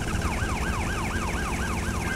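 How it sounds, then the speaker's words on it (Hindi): An ambulance siren wails in GTA Vice City, a rhythmic rising and falling tone that repeats quickly over a constant engine rumble. "मिल गई एम्बुलेंस, अब हम भागेंगे एम्बुलेंस से।"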